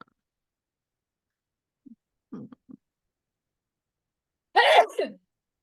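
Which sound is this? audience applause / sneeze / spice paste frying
sneeze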